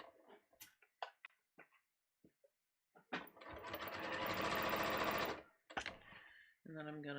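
A sewing machine stitches a shirt in one steady run of about two and a half seconds, loud and close, with quiet speech and handling noises before and after.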